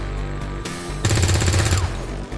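Gunfire in the video game XCOM 2: War of the Chosen: after a brief quieter lead-in, a loud rapid burst of automatic shots rattles for about a second, then fades into ambient game noise, with no talking.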